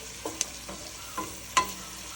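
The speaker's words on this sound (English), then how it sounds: "So just give it a continual stir" Italian Sunday sauce stirred over high heat after garlic is flash-fried: faint sizzling with a few soft scrapes and clinks of a utensil in the pan, sparse and quiet.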